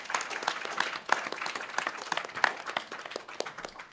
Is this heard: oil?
no